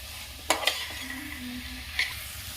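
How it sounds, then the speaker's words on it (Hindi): Black chickpea curry sizzles in a pan while a spoon stirs it, with a few sharp scrapes and clinks of the utensil against the pan over a soft continuous frying hiss. "इसे 2-3 मिनट में भून लूंगी।"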